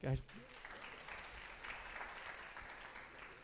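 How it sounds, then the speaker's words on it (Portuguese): An audience applauds after a math question is answered: steady, dense clapping from many hands, sustained for several seconds at moderate distance, with a brief voice at the very start. "Gente, palmas para o Fabiano, por favor"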